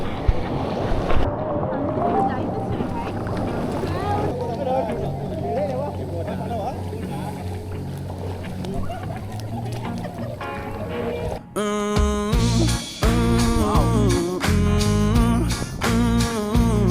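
A tour boat motors near James Bond Island off Phuket with steady engine and wind rush, then loud music and singing take over partway through, with voices over the top.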